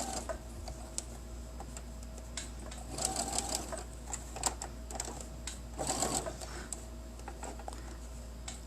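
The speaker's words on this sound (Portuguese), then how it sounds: "O importante é ir costurando pouquinho para que não se desencontrem as pontas dos tecidos." A sewing machine stitches fabric strips for a pincushion in short bursts, speeding up around the middle and again near the end, over a steady low hum with faint ticking between runs.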